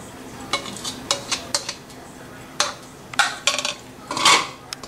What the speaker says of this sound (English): Mix it fast and everything together.